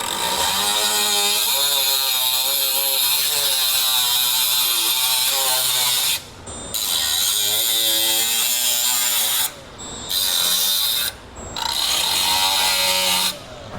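Angle grinder cutting through rusted sheet metal of the cab A-pillar on a 1962 Chevrolet C10 pickup, a loud steady whine with two brief pauses and restarts, no talk.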